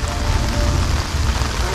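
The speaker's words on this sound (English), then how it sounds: "It's coming down right now. It's starting to pour." Dense, loud rain roars steadily during a severe thunderstorm while camping, with a deep low rumble underneath, a constant heavy downpour with no pauses.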